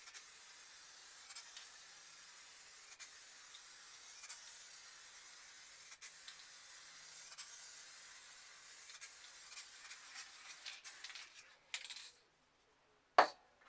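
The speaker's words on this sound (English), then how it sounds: "I'm just going to give it a quick clear coat and sign it before I move on to the second one." A spray can hisses steadily while applying clear coat over spray paint art, a continuous close spray that sputters and stops near the end with a short sharp clatter.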